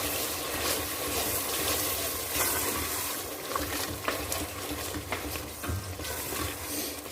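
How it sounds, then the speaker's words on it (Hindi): A spoon stirs turmeric into a kadhi mixture for kadhi pakora, making a continuous wet swishing and scraping that carries on steadily with a few light knocks. "इसको अच्छे से मिक्स कर लेते हैं।"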